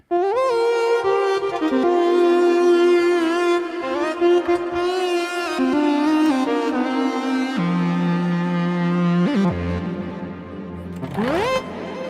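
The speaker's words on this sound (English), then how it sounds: "it's a lead sound" A bright, reedy synthesizer lead from NanoStudio 2 plays a sustained gliding melody with rich harmonics, loud and alone, ending in a quick upward pitch sweep.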